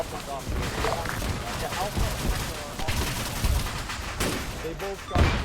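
Gunshots ring out at a machine gunner tower in the video game Arma 3 as a dense run of sharp cracks and bursts of fire, with people talking over the shooting.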